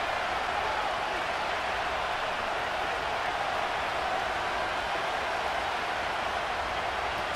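Steady, dense stadium crowd roar from the Madden NFL 25 football video game, a continuous loud wash of cheering without breaks.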